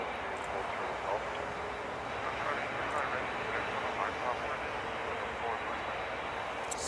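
Rolls-Royce Trent 900 engines on an Airbus A380 at an airport, a steady broad roar holding at even loudness throughout, with distant talk faintly beneath it.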